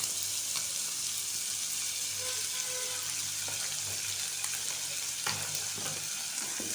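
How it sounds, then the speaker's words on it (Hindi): Ketchup being stirred into a spiced pizza stuffing in a pan with the stove just turned off; a steady, close sizzle and crackle runs throughout, with scraping stir strokes and a few sharper clicks. "केचप डाल के अच्छी तरह से मिक्स करेंगे"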